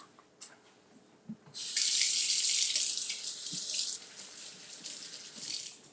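A kitchen tap runs for hand washing during cooking, starting with a couple of small knocks before a loud rush of water gushes for about two seconds, then splashes more softly and unevenly as hands move under it.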